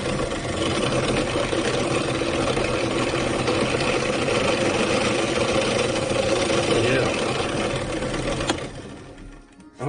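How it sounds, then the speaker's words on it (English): A drill press fitted with a small hole punch cuts into EVA foam, producing a steady loud motor whir with a grinding buzz that runs for about nine seconds before spinning down. "let's hook it up on the drill press and cut a few pieces out and see if it works"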